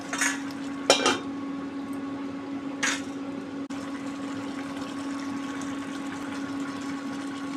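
Potatoes and chillies simmering in a pan of water while being stirred, with a few clinks of a spoon against the pan early on over a steady low bubbling and hum.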